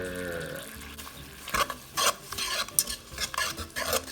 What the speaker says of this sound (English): be sure to grab yourself a whisk and whisk it all together